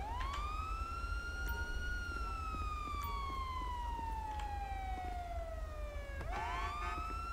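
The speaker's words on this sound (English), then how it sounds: "My siren's on, actually." A police car siren in GTA V with the LSPDFR mod wails in long, loud, rising and falling sweeps, restarting near the end, over a steady low engine rumble with no talking.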